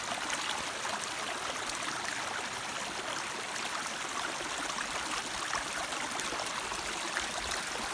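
Water flows steadily through a creek culvert beside a county road in Jackson County, a continuous broadband rush and trickle, fairly close, with no talking over it.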